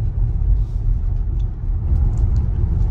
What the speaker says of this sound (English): And while the Model Y knows it's there, it has absolutely no trouble pulling it.